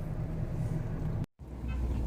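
A Mahindra Thar's engine rumbles low and steady as the vehicle pulls away, with a brief dropout in the middle before the drone resumes, heard from inside the cabin without talking.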